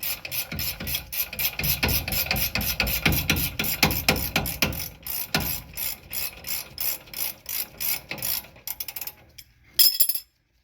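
A wrench ratcheting on the parking brake of a 4th-gen Ram 2500/3500 truck: long runs of rapid, rhythmic clicking in repeated bursts with short pauses, close and fairly loud, then a few final clicks, no voices.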